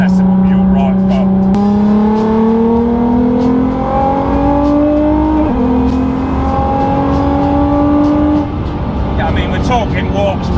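A Nissan GT-R R35 tuned to 1,000 horsepower accelerates hard from inside, its engine note climbing steeply through several gear changes, loud and close, with talk over the top.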